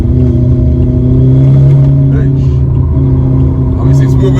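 A BMW 1 Series E88 taking a corner, its engine a steady loud drone from inside the cabin with slight shifts in pitch, while a person talks over it.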